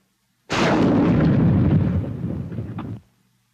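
A 1943 bazooka rocket launcher fires with one loud, close blast, and its backblast roars for about two and a half seconds into a white sheet behind the launcher before cutting off.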